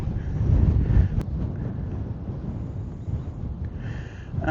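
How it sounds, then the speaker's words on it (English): Strong wind buffets the microphone on an exposed hilltop fort near a trig point, a loud continuous low roar with gusts, heard alone without speech. "you probably can't hear me over the wind"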